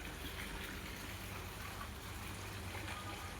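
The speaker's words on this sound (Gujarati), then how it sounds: "એવું નારિયેલીની બધે પાણી ચાલુ છે" Irrigation water running through a garden of coconut trees, a steady, faint gushing flow that continues without a break and sounds slightly distant.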